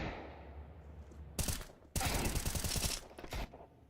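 Gunfire in the video game CS2 during a competitive match, with two close bursts of rapid automatic shots, loud and sharp, separated by a short gap against a quiet background hum.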